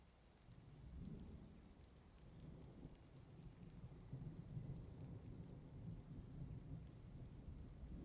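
Steady rain and rolling thunder in the Dwarf Fortress video game, a continuous hiss of rainfall under low, sustained rumbles that swell and persist throughout, with no voices.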